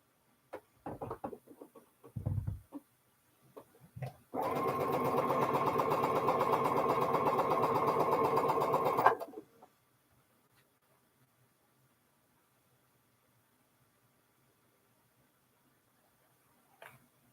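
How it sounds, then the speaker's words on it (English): A home sewing machine stitches quilt fabric for a polka-dot block in one sustained, steady run of about five seconds, after a few light handling knocks and before the room goes quiet. "stop the rambling and get the sewing done"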